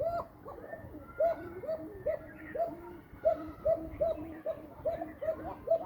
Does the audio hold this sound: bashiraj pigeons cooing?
yes